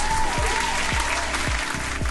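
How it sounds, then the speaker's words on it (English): Applause-like clapping from a group, steady and fairly loud throughout, with a few low thumps punctuating it and no talk over the top. "Hand clap for DeFi, man."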